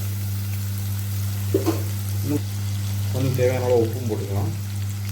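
Onions and potatoes sauté in oil in a pan for an egg curry, a soft steady sizzle sitting under a constant low electrical hum while a person talks.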